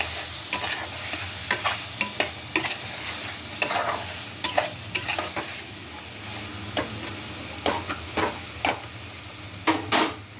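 Prawns frying in a cooked-down masala, a continuous close sizzle broken by a dozen sharp clicks and scrapes of a spatula stirring the pan.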